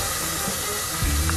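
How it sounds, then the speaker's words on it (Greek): Onion drops into hot olive oil in a pot for a yellow pumpkin soup, and a steady hiss rises into a brighter, louder sizzle near the end, close and with no talking. "Θα ρίξουμε το κρεμμύδι."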